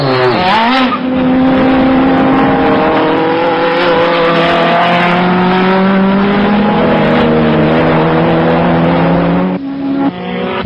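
Renault 21 Turbo Superproduction race car engine roaring hard and close, a sustained loud drone holding pitch under load before a brief lift and recovery near the end.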